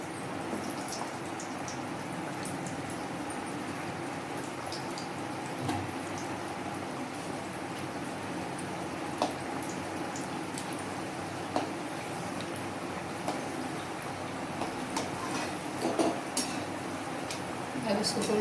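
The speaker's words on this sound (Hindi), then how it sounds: "तेल हमारा गर्म हो चुका है। अब हम इसमें एक एक लिट्टी ऐसे करके धीरे धीरे डाल देंगे" Sattu litti fry slowly in hot oil over a low flame, a soft, steady sizzle and bubbling with scattered small pops and clinks throughout.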